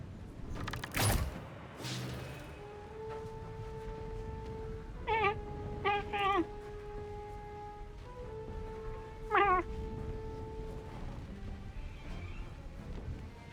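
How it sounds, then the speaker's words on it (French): A house cat meows several times indoors, short tonal calls coming in pairs and a later single, fairly close over quiet room noise, after a couple of sharp knocks at the start. "Miaou le chat qui fait miaou"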